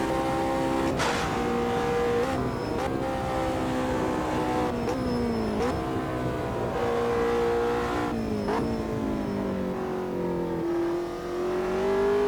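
Race car engine in the Automobilista 2 sim racing game at the Nürburgring Nordschleife at sunset, revving loudly and continuously with repeated upshifts and pitch sweeps as it accelerates, staying close and steady throughout.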